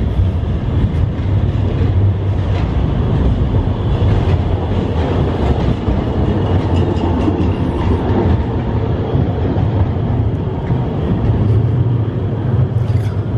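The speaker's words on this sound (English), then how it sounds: "See a tram coming." A tram rolls along a street in Krakow, a steady rumbling rattle of wheels on rail with faint clicks, loud and close throughout without fading, with no talking.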